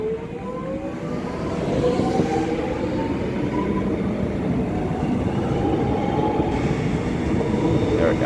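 A train rolls through Mordialloc's 120-year-old station in Melbourne, a loud continuous rumble of wheels and cars passing close by with rising and falling tonal whine and faint rail squeal over it.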